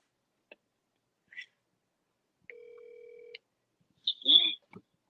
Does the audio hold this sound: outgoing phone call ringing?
yes